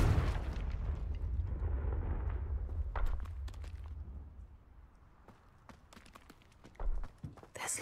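Confringo spell explosion in the Hogwarts Legacy video game, a deep rumbling blast that fades over a few seconds, followed by scattered footsteps and light clicks, moderately quiet, no speech.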